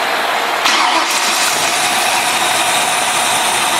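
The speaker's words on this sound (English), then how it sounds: "And we start the engine up." A Ford 331 stroker V8 fitted with a Pertronix distributor cranks and catches about half a second in, then settles into a loud, steady, rough-edged running roar close by, with no talking.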